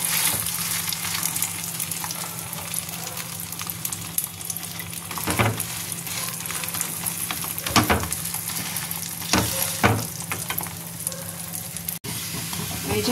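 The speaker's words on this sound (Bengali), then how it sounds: "এই যে বেশ কড়া করে ভাজা হয়ে গেছে।" An egg-coated flour flatbread for an egg roll fries in oil in a pan, a constant close sizzle and hiss broken by several sharper crackles and spatters, with occasional stirring or scraping.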